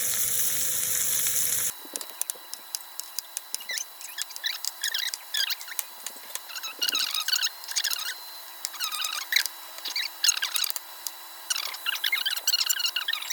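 Beef and shrimp coated in Creole seasoning and ginger fry in a pan for fried rice, with a steady close sizzle and crackle broken by bursts of spitting as pieces hit the oil.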